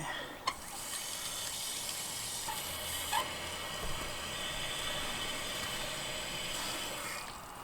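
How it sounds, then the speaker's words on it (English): A garden hose switched on through a manual override to water newly planted tomato plants, a steady close hiss and spray of water running continuously after a few clicks, with no voices. "So now we'll go and turn the water on that manual override, and then we'll kind of adjust how the hose so it hits all the plants"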